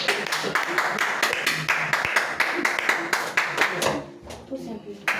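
A church congregation at a praise and worship service claps in a strong, regular rhythm, loud and close, with voices acclaiming alongside before the clapping thins out near the end.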